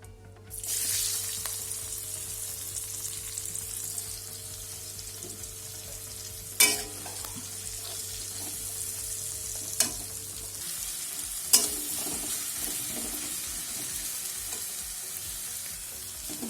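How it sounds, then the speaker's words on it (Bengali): Onions drop into hot oil left from frying potatoes in a pan and hiss in a steady close sizzle, broken by a few sharp clinks of a utensil against the pan. "এই তেলটার মধ্যেই আমি পেঁয়াজ দিয়ে দেব।"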